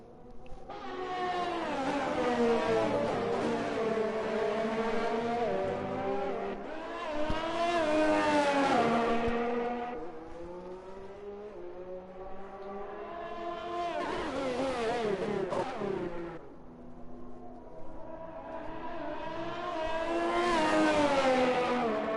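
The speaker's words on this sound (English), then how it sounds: "let's follow this Ferrari on track. DRS wide open" A Ferrari Formula 1 car in a racing video game on a track, its high-pitched engine rising and falling through repeated upshifts and downshifts, loud and continuous, with no talk.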